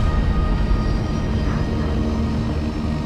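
Chalk's Ocean Airways seaplane engines throttling up for takeoff on the water near Government Cut, a loud, steady, broadband roar holding at constant power throughout.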